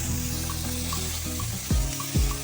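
Chili powder is stirred into frying oil for a tilapia curry, with a short, steady sizzle and a couple of spoon scrapes toward the end, heard close and without speech.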